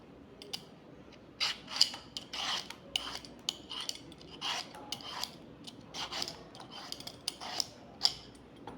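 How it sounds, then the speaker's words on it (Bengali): Pointed gourds (potol) peeled one by one with a blade, irregular soft scraping and rasping strokes, close and quiet, with short pauses between bursts. "আমি পটলগুলো একটা একটা করে ছিলে নিচ্ছি।"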